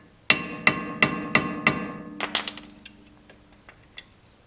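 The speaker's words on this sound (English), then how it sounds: "I get my nice beefy Phillips and I tap it in there." A hammer taps a sturdy Phillips screwdriver into a screw during rear bearing work on a 2008 Honda Civic. Five loud, evenly spaced metallic strikes ring out, then quicker, lighter taps fade away.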